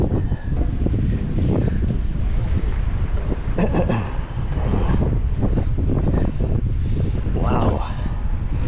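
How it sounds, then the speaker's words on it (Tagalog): Strong wind roars across the microphone at an outdoor view deck beside MacArthur Highway in a constant heavy rumble, with voices talking underneath and occasional sharper bursts. "Hangin."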